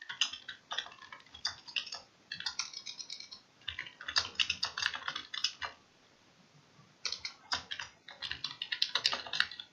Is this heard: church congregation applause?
no